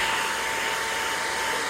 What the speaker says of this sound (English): the blow dryer here